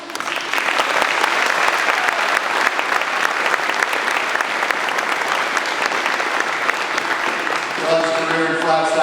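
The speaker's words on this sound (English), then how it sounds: "We give him a round of applause." Sustained applause from a hall of fame dinner audience honoring a former NAU football player, steady and full for about eight seconds before fading as a voice returns.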